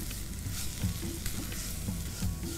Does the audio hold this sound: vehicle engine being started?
no